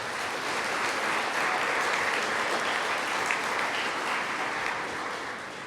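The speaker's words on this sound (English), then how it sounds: "let's give them another round of applause" An audience at the 2025 Otterbein athletics senior awards banquet gives a sustained round of applause, a dense, steady wash of many hands clapping at even loudness for the whole stretch, with no voices over it.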